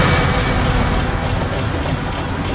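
A train runs on rails in a Roblox railway game, a loud, continuous rolling rumble with faint rhythmic wheel clatter and no talking.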